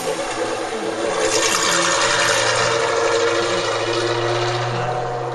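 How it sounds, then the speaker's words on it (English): A small leaky fountain outdoors gives off a steady, close, continuous hiss of running and splattering water, loud and unbroken for several seconds, with faint other noises mixed in and no voices. "this is a little leaky fountain I found on the way"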